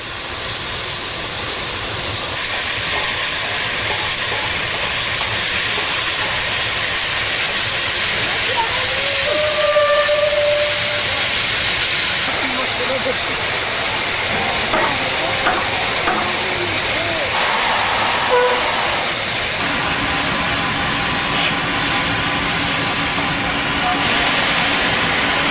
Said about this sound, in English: The steam-driven coal grab here for coaling the locomotive.